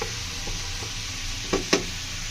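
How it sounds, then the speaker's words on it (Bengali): Watermelon rind stirred and fried in a pan with dried chili and tomato, a steady sizzle under scraping stirs, with two sharper clanks near the end. "ভালো করে নেড়ে চেড়ে একটু কষিয়ে নিতে হবে যাতে এটা একটু গরম হয়ে আসে"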